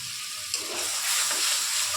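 Tomato paste sizzling in a hot pan for a papaya and aar fish curry, a steady bright hiss that swells slightly partway through, with no talking.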